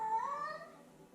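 A cat meows at a door, a single short rising-then-falling cry, faint and fading quickly into quiet.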